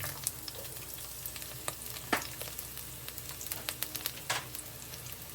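Onions sizzle and crackle in hot cooking oil for a chicken curry, a soft continuous fry broken by scattered sharp pops and the occasional stir, with no talking.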